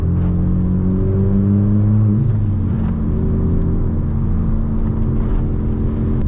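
A straight-piped Ford Fiesta MK6 fitted with an Omex rev limiter drones loudly and continuously close by, its engine note sliding down as revs drop, with a few sharp crackles mixed into the exhaust rumble.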